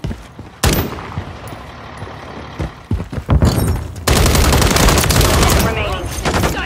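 Gunfire in the Call of Duty Modern Warfare 3 multiplayer video game: scattered loud shots build into a sustained, heavy barrage of rapid automatic fire under faint battlefield voices.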